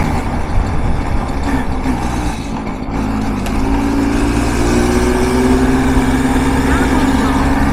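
The engine of a light motor vehicle weighing about 66 to 67 kg runs on a forest road with a steady, close drone that climbs gradually in pitch partway through, while people talk over it.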